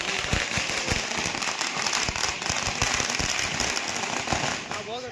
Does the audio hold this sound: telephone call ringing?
no